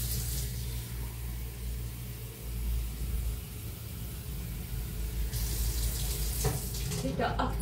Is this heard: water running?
yes